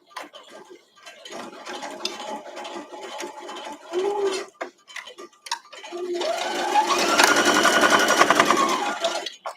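A sewing machine misbehaving while stitching a scrap-friendly quilt block, running in uneven stop-start bursts of rapid mechanical ticking, then settling into a louder continuous whir near the end, close by with no talk.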